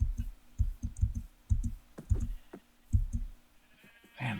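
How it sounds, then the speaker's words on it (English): Sheep bleat in the Minecraft video game, short bleats mixed with a run of soft low thumps, with a clearer call near the end and no talking. "Man, look at all those sheep."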